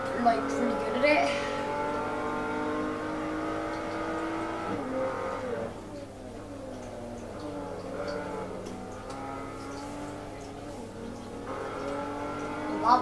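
A car engine revs and shifts in the Forza Motorsport 3 racing game, rising and falling pitch sweeps repeating at moderate level, with a person talking over it.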